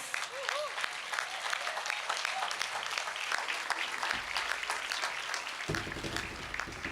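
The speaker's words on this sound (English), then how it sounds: "I'm very happy that each one of you has clapped for the woman power." An audience claps at the Ganga Aarti ceremony in Rishikesh on Holi during the IYF2023 inauguration, dense sustained applause from a large crowd throughout, with a voice briefly audible near the start.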